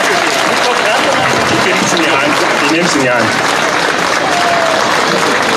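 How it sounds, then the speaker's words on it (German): A crowd at a Bürgerfest in Nordhausen applauds Tino Chrupalla's arrival with loud, continuous, dense clapping, while someone speaks briefly over the noise. "Bitte begrüßen Sie mit einem großen Applaus Tino Chrupalla."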